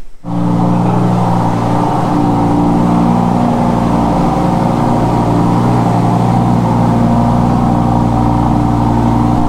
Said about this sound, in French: Donc là on est sur une R8 V10.